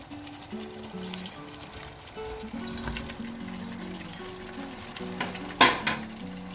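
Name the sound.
fried chicken stirred into boiling biryani masala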